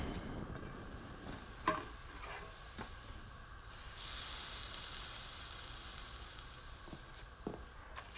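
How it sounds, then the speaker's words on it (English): An omelette sizzles in a pan with a steady, faint frying hiss, broken by a few soft clinks and taps of a utensil; no voices. "hearing the sizzle"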